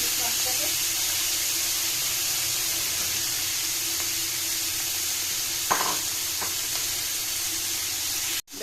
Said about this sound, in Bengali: আমি ভেজে নিচ্ছি ইলিশ মাছটাকে